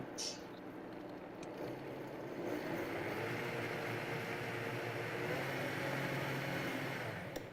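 A countertop blender whirs steadily while blending a cold, liquidy drink, a loud continuous motor roar that swells after the first couple of seconds and holds, with no talk over it.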